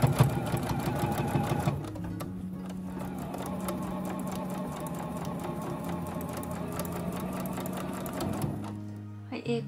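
A sewing machine runs steadily while basting a tatami-edge tote bag about 5 mm from the edge, its fast, even needle rhythm close up for several seconds, pausing briefly before running on.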